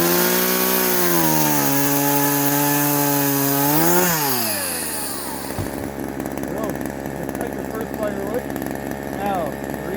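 A chainsaw runs at high revs through wood during a cut, its loud engine whine dropping as it bogs and slows partway through, then idling and winding down under continuous noise, with voices in between.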